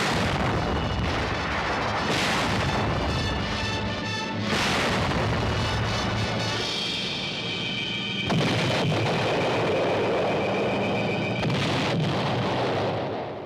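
Artillery fire from a wartime newsreel of the battle for the fortified city of Troina: continuous heavy booms and rumbling blasts that blend into a loud, dense roar throughout.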